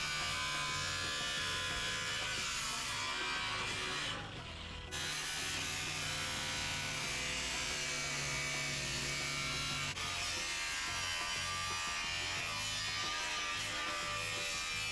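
Inside an RV, a handheld grinder cuts out the corners, giving a steady, high buzzing whine that dips briefly once before carrying on, fairly quiet and with no talking.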